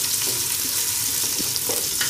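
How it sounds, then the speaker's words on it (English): Onions sautéing in hot cooking oil for drumstick chicken adobo make a dense, close sizzle with soft stirring scrapes mixed in, steady and unbroken, and no one speaks. "naririnig nyo ang mga onions na nagigisa kami"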